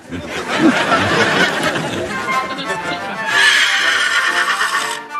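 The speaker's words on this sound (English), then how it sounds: "So, I'm supposed to believe that Mr. Ed is a talking horse" Horse neighing from a television sitcom about a talking horse, a loud whinny over busy chatter and background voices, with a second rising whinny later in the clip.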